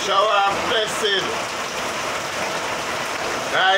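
Rain falls in a steady, close hiss while voices talk over it, loudest at the start and end.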